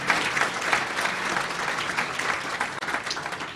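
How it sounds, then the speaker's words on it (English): Steady applause from an audience at a college spring convocation, dense and continuous throughout the short stretch, moderately loud and without talk over it. "So let's give her a round of applause"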